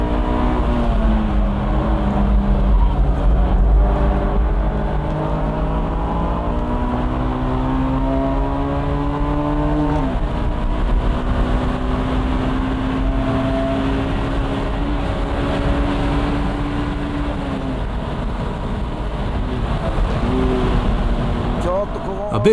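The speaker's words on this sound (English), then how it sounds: "The car's handling these corners nicely." Honda S2000 sports car lapping the Nürburgring, its engine droning steadily with rising and falling pitch through corners, heard from onboard and loud throughout.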